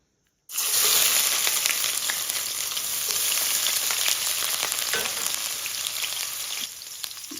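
Chopped onion and hot pepper hit hot oil in a heavy Dutch oven for a chickpea and potato curry, giving a loud, steady sizzle and crackle that begins abruptly and continues without talk, easing slightly near the end.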